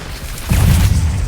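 In a Hogwarts wizarding video game, an Expelliarmus spell being cast lands as a sudden loud boom halfway through, followed by a sustained low rumbling burst.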